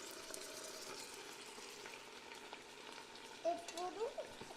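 Marinated chicken sizzles quietly as it is added to a hot pan while cooking Hyderabadi dum biryani, a soft steady frying hiss with a few utensil clinks and stirring sounds near the end.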